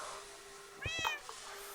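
A single short Minecraft cat meow sounds over a quiet, steady background hum.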